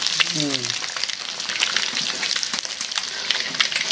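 Eggs fry in a pan with a little water, producing a dense, continuous sizzle and bubbling close by; a brief voice is heard at the start.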